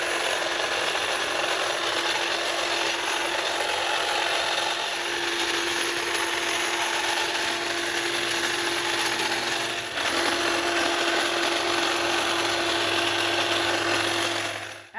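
Hedge trimmers run steadily while cutting back a hydrangea bush, a continuous loud mechanical buzz with a brief dip and pitch shift around ten seconds, then carrying on until a sudden stop.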